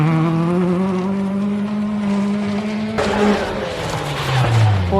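A front-wheel-drive Peugeot 106 rally car at a snowy hairpin on a rally stage: a close, loud engine revving in rising and falling pitch, with a sharp gear change partway through.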